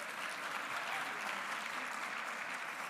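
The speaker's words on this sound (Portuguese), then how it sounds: "Um aplauso merece." Continuous, dense applause from a ceremony audience in Viseu honouring a long-serving professional, evenly sustained at a steady level throughout without pauses.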